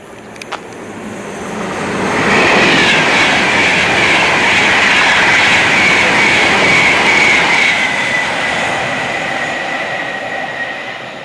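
Aboard a passenger train in the English Midlands, the carriage swells into a loud steady roar of wheels on rails, with a high metallic squeal running through it before easing slightly at the end.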